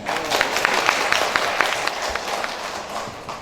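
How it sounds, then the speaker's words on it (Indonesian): Audience applause at a symposium and inauguration event, brisk clapping from a gathered crowd with distinct individual claps popping out, steady for a few seconds then easing slightly. "tepuk tangan untuk Bapak Ibu semua"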